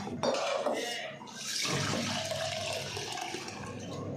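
Grain being washed and rinsed by hand in a pot of water for anarse, with sloshing, splashing water and light clinks of the vessel, close and continuous.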